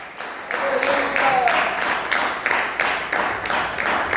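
A church congregation claps in a steady, even rhythm, about two claps per second, while a preacher speaks over the clapping.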